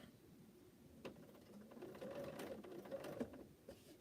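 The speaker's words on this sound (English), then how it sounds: "I'm going to go ahead and sew this last seam of the block." A sewing machine stitching the final seam of a Cleopatra's Fan quilt block, a quiet whirring run that builds and wavers over a few seconds with small clicks, close by and with no talk.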